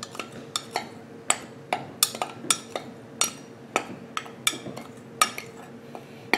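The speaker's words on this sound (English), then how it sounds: "I'm going to stir them together, making sure it's" A spoon stirs homemade paint ingredients in a dish, clinking and scraping against the sides in a quick, uneven rhythm of sharp taps, close and clear with nothing else audible.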